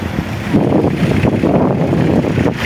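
Strong, cold wind roars continuously into the microphone at the Salumi pier in rough weather, a loud buffeting rush with faint wave wash beneath it. No one speaks.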